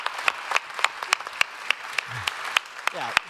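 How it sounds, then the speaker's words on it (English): Scattered applause from a small gathered group during an interview at the EnergaCAMERIMAGE 2024 festival, with sharp individual claps spaced out at a moderate pace and a voice speaking over them. "a little round of applause for our team that put together all of this."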